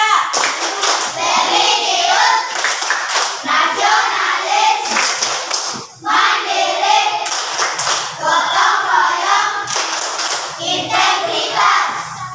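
A classroom of children performs the 'tepuk PPK' clapping chant, with steady rhythmic hand claps under loud group chanting that runs continuously, pausing briefly only once.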